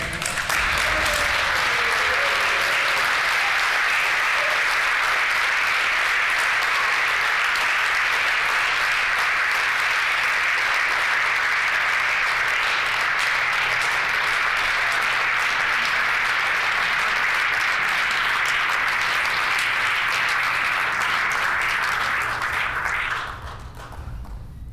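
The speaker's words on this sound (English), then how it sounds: "I invite all members to join me in applauding Mila's efforts" Members of a legislative house applaud in their chamber, sustained dense clapping from many hands filling the room for over twenty seconds before tapering off at the end.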